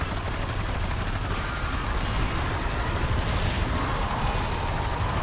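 Sustained automatic gunfire aimed at an Elder Disciple in Black Ops 6 Zombies, a dense, continuous roar of close, loud shots with no pause.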